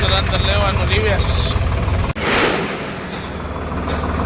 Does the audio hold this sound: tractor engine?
yes